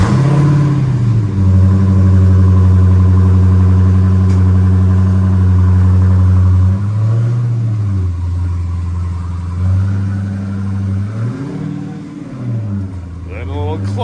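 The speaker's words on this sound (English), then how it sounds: "let's listen to the Challenger startup" A Dodge Challenger V6 engine turns over and settles into a steady, deep idle with a brief rev partway through, voices talking faintly alongside at a car meet.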